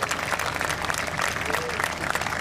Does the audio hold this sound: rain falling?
no